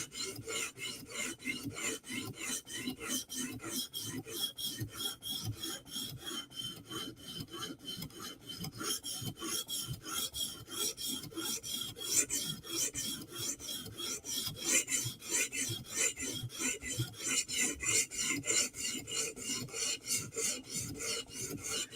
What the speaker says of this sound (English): So we'll just do a little bit of scrubbing on this side.